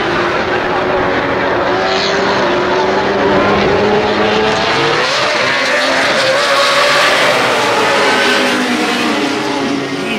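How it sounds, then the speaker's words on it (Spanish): Race car engines in a Gran Turismo video game race sound as a loud, continuous high-pitched whine, with several cars droning and shifting pitch together over steady background noise, and talk faintly mixed in beneath. "vamos a dejarlo con el sonido de los motores."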